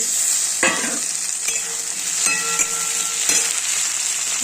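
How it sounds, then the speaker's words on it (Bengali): Potato, grated onion and chopped tomato fry in a pan for a fish curry, a steady bright sizzle with several scraping stirs of a utensil against the pan, close and loud. "পেঁয়াজটাকে দিয়ে একটু নেড়ে ছেড়ে দিয়ে দেবো টমেটো কুচি"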